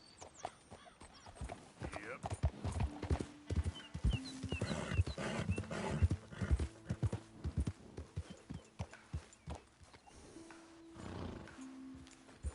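Horse hooves clip-clop in a steady galloping rhythm across a Red Dead Redemption 2 game world, with occasional whinnies and ambient rumble, and a voice talking briefly over it.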